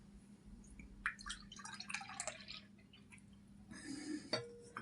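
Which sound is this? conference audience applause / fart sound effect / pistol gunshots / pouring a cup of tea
pouring a cup of tea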